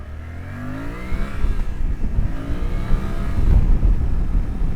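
A 2025 Suzuki V-Strom 800RE adventure motorcycle accelerating on the road, its engine note rising through the revs as a building growl under heavy wind rush, steady and loud from the rider's position.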